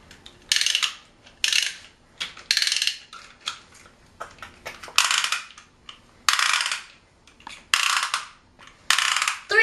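Beyblade tops are clicked and ratcheted into their launchers in a string of sharp, bright bursts, about ten in quick succession, close and crisp against near silence.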